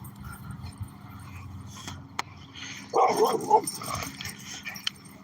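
Agitated dogs bark and yip at a statue, a burst of several close, loud barks in the middle with whimpering around it over a quiet outdoor background.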